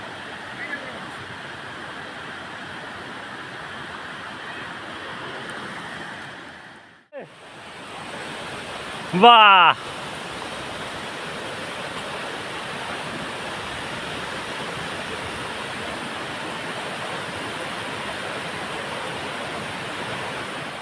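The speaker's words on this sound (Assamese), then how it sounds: "অৱশেষত আহি পালোঁ কাংথিলাংচু জলপ্ৰপাত" The Kangthilangsu waterfall in the Karbi hills roars as a steady, loud broadband rush of falling water throughout, with a brief dip in the middle and a short exclamation from a voice near the middle.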